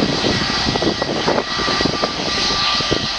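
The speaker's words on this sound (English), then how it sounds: "It's an Airbus A320 that came into service in November 2018." An EasyJet Airbus A320 jet on an airport runway, a loud, steady engine roar with a faint whine holding constant throughout.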